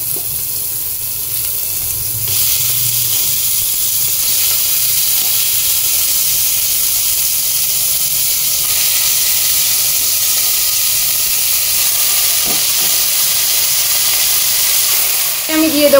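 Chicken pieces added to a hot pan with a medium onion set off a loud, continuous sizzle and hiss that holds steady and close throughout.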